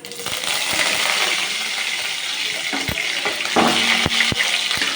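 Mustard seeds splutter in hot oil in a pan for a spicy prawn masala curry, with a steady close sizzle punctuated by sharp, irregular pops and crackles, loud and without talking.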